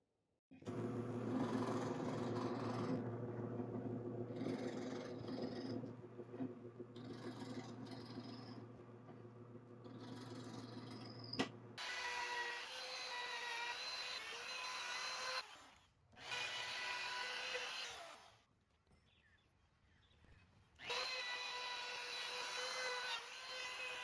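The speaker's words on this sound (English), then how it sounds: "we're going to drill at the intersection of each of these lines" A power drill whirs steadily, then bores about an inch deep into a wooden display board in several long bursts with brief pauses, a grinding, rubbing tone of the bit cutting wood nearby.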